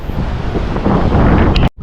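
Strong wind buffets a microphone on a small fishing boat out on the water, a dense, steady roar of gusty noise, close and loud, cutting off abruptly near the end.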